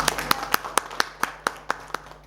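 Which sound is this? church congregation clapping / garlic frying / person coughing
church congregation clapping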